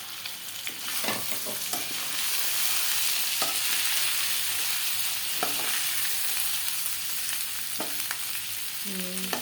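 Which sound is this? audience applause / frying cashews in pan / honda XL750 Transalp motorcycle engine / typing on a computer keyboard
frying cashews in pan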